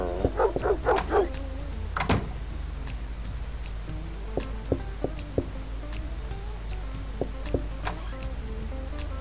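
A dog in a Neighbours from Hell mod video game barks and yips in a quick flurry at the start, then gives scattered single yelps and whimpers over a low constant hum.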